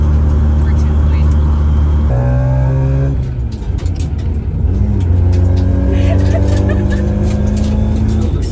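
A car with a slipping transmission accelerates: a loud, close engine drone climbs in pitch, drops sharply as it shifts, then rises again in a strained, uneven rev.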